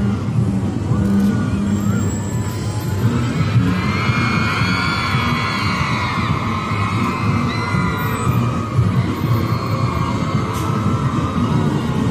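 Armoured-vehicle transporter trucks roll past in a National Day parade rehearsal in Putrajaya, a steady loud engine drone and low throbbing rumble running throughout, with crowd noise and children's shouts mixed in.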